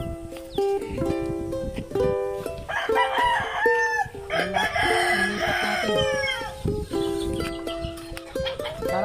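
A rooster crows loudly several times while chickens cluck nearby, busy overlapping farmyard calls with no one speaking.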